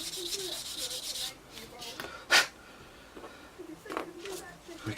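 A sanding sponge gently polishes the canopy seam of a Tamiya 1/32 F-16 model, soft intermittent rubbing strokes, quiet and close, with one brief sharper scrape partway through.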